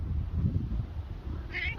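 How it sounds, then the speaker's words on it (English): A house cat gives a short, odd, strained meow near the end, close and clear, after a stretch of low rustling and handling noise. "Why you have to make a noise saying, ow? What's that? Meow?"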